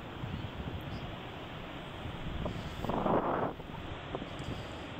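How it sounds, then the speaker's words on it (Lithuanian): Strong wind buffets the microphone in a continuous rough roar outdoors at a paragliding site, swelling into a louder gust around the middle. "Bet kai šiandien vėjas stiprus"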